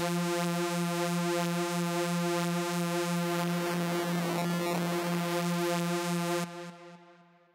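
A buzzy, harmonically rich sustained distorted supersaw synth lead holding one note, with a swirling phasing texture midway before it cuts off and fades.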